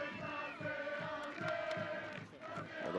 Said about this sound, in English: the French hearing so much from their crowd right now